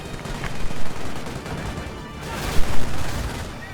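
MG42 machine gun fire in Company of Heroes, a dense rattling battlefield din of rapid gunfire with a couple of louder bursts, continuous throughout.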